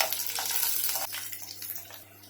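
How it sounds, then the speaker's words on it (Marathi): Garlic cloves frying in oil in a pan, a steady close crackling sizzle with soft spatters, slightly quieter in its second half, with no talk. "आम्ही तेल टाकूया लसणाच्या पाकळ्या चांगल्या लाल होईपर्यंत भाजायच्या आहेत"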